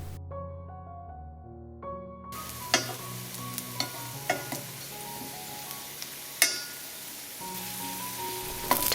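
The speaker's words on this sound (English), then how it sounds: "Fry chopped potato pieces in some olive oil until the edges are lightly browned." Chopped potato pieces fry in olive oil, a steady soft sizzle with occasional sharp clinks and scrapes of stirring, close and moderately quiet after a brief hum at the start.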